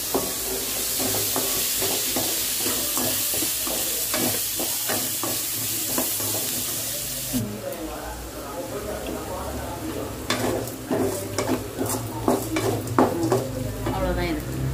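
Chopped radish sautéing in a pan for chutney, a steady loud sizzle with rhythmic spatula scrapes and stirring, close up, with a voice talking in places.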